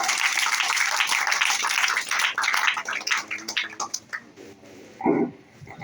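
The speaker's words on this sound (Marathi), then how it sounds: "टाळ्या वाजवा जरा एकदा" A crowd claps for students being welcomed with chocolates, flowers and books at a village gathering. The dense clapping fades into scattered claps and background chatter.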